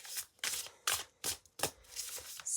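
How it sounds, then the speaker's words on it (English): A deck of tarot cards being shuffled by hand, close and fairly quiet, in a rhythmic series of about six quick riffling bursts separated by short pauses. "I also want to shuffle this deck."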